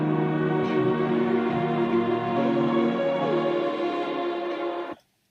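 Electronic dance track at the end of a drop, dense harmonic synth layers with the low end filtered away, playing steadily for about five seconds and then cutting off abruptly.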